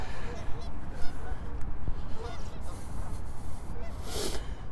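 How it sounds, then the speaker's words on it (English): Geese sit along the edge of a lake dock in Regina on a cold late-October day, with honking scattered through steady outdoor wind and footsteps, and a voice talking over part of it. "there's the geese sitting on the edge of sitting by the dock of the bay"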